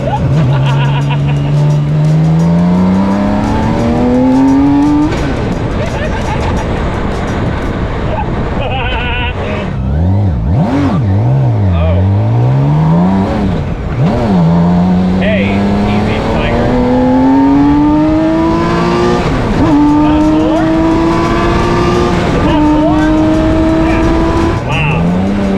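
A Dodge Demon accelerates hard through repeated gear runs, its engine note climbing and dropping loud and close, with tire squeal and skidding bursts in between; people talk and shout over it.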